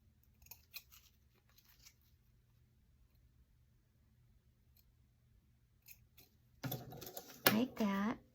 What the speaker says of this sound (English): Like that, and trim up the ribbon.